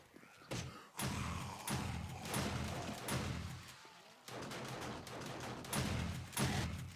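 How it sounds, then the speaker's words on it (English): Auto turrets in the zombie survival game 7 Days to Die fire at a wandering horde, producing repeated loud bursts of rapid gunfire with short gaps between volleys. "those auto turrets are hitting them all the way from back there"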